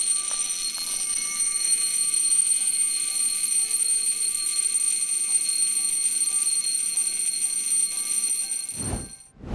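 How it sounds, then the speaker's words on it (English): A Memobox dive watch alarm rings continuously, a bright metallic buzzing tone with steady high harmonics held for about nine seconds at close range, ending with a brief handling rustle. "with an additional alarm on top of it to time dives or other specific events"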